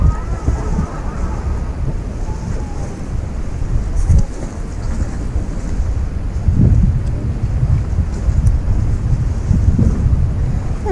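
Strong wind gusts buffet the microphone on the shore of Lake Sevan, a loud continuous roar with deep low thumps and possible lapping water beneath.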